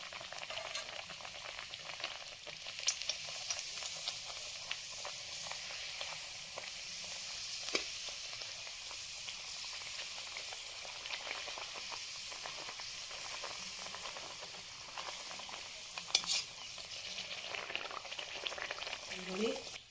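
Rolled and cut puri dough fries in oil in a kadai, giving a soft, continuous bubbling sizzle heard close but fairly quiet, with occasional small clinks and no clear talk.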